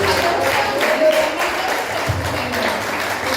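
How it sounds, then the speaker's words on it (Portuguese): A church congregation applauds in continuous, dense clapping that fills the room at a fairly loud, steady level, with faint voices mixed in. "Aplauda ao Senhor"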